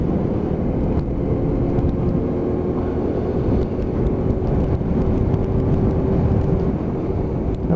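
A Hyosung GT125R motorcycle cruising in fifth gear with traffic: a loud, steady engine drone mixed with rushing wind, holding an even pitch throughout with no break.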